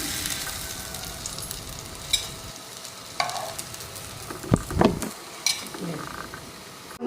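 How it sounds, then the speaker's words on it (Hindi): A burger patty fries in a pan over a low flame, giving a steady soft sizzle with a few sharper clinks and scrapes of stirring along the way. "हल्की सी आंच पे हमने फ्राई किया है"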